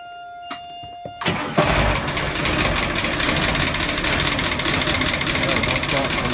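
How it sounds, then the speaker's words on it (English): Marine diesel engine aboard a Trader 50 boat cold starting: a few clicks, then a cranking catch and a steady, loud rumbling idle settling in. "And if I could ask for her to be started,"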